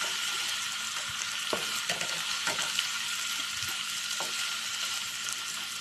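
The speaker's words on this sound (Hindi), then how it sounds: "थोड़ा थोड़ा पानी जो है ना वो इसमें शामिल करके हम इसको भी इसके साथ भून लेंगे" Potato and taro (arbi) curry fries in a pan with a constant close sizzle, broken by a few soft scraping stirs and light clicks of a spoon against the pan.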